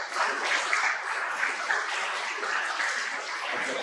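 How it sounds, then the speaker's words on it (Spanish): A seated audience at an ornithology talk gives steady, moderately distant applause that carries on evenly for a few seconds without a break. "Muchísimas gracias, Denis, por tu exposición. Un aplauso."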